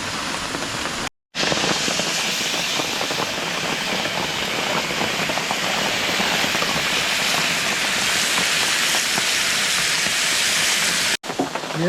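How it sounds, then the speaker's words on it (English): Rain drums steadily on a tent roof at a rainy campsite, a dense continuous patter close overhead, briefly cut out at the start and near the end. "Rain on top of us"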